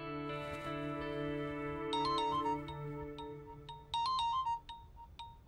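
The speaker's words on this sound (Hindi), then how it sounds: "ये महेश सुराना क्यों फोन कर?" A phone ringtone sounds alone, a sustained melodic tone with bright chiming notes that come in bursts over it, moderately loud and close.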